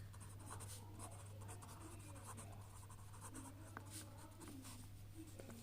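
A pen scratches out numbers on paper while a Class 6 ratio maths problem is worked through, close and quiet, with short strokes and pauses in an irregular rhythm.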